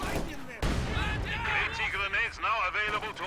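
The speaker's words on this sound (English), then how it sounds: "Shoe mine goes off." A shoe mine detonating in Company of Heroes 2 lands as one sharp blast, followed by battlefield rumble and scattered small-arms fire, with a voice talking over it.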